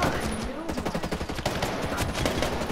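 Rapid gunfire from a rifle in the video game Ghost Recon Breakpoint, a dense burst of many quick shots in fast succession, loud and close.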